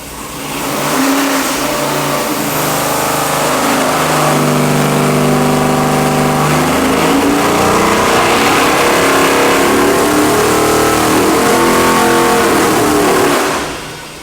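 A powerful 441-cubic-inch, 13.25:1 compression LS V8 engine revs steadily under load on a dyno, rising in pitch through a long sustained pull before cutting off, loud and close with no talking.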